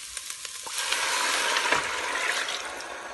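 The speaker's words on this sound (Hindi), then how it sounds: "जो ये यखनी बनाई थी हमने ये डाल देंगे इसमें।" Homemade chicken stock (yakhni) poured into a pan of lightly sautéed ingredients for Turkish soup, a steady close hiss and sizzle with liquid splashing that rises after the first second and continues alone.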